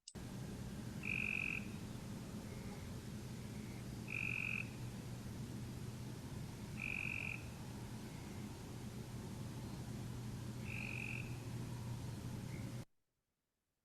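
Short buzzy trills from a Cope's gray tree frog repeat every few seconds over a steady background of night noise and hiss.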